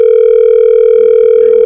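A telephone dial tone hums as a steady, loud, unbroken tone, close and clear, with faint background voices toward the end before it cuts off abruptly.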